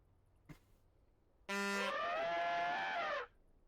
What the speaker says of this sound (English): Getting a lot of honk sounds